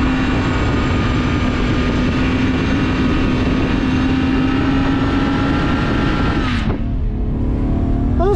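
A BMW E36 on studded tyres drifts on a snowy mountain pass closed to traffic, its engine droning loud and steady at high revs for several seconds before abruptly dropping off, then rising again briefly.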